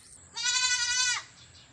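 A single goat lets out one loud, wavering bleat lasting nearly a second after being bathed on a farm, close by, with quiet surroundings before and after.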